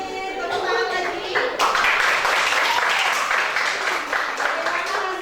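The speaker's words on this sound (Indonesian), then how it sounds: "Tepuk tangan lagi." Children clapping their hands together in a classroom, a burst of brisk, overlapping claps that swells after a moment and carries on, with voices talking over it.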